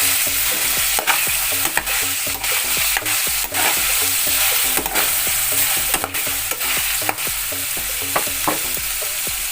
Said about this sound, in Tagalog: Halo-haloin ko lang guys.